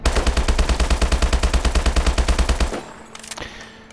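An STG44 rifle in Call of Duty: Advanced Warfare is fired from the hip in one loud, steady automatic burst of about twenty rapid shots, then cuts off, leaving faint mechanical clicks.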